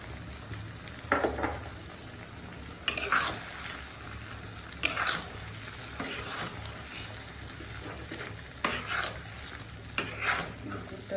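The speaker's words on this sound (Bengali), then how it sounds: "সাথে ভালো করে আমাকে মিক্স করে দিলাম" Mango pickle being stirred with date palm jaggery in a pan, a soft low sizzle running throughout beneath several distinct scraping bursts of a spoon against the pan, spaced a second or two apart.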